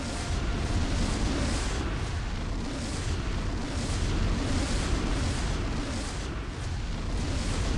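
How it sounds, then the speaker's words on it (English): Entangle spell in the Baldur's Gate 2 video game gives a continuous rumbling, explosion-like roar with repeated bursts and booms, steady and dense throughout, with no speech over it. "Why do I keep hearing explosions?"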